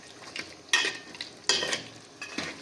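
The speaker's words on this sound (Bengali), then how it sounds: "সব মশলাগুলো দিয়ে এবার খুব ভালোভাবে আমরা মাংসটাকে কষিয়ে নেব।" Mutton pieces being stir-fried with spices in a pan, bursts of scraping and sizzling in three distinct strokes, fairly close, with a low hiss between them and no voices.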